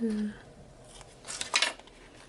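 Packaging on an old One Piece book being carefully cut open: a faint, short burst of snipping and crinkling around the middle, close and quiet, following a brief voice at the start.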